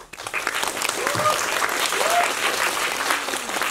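An audience at a film festival guest-visit screening in Busan claps warmly and continuously, a dense close wash of applause with voices speaking over it.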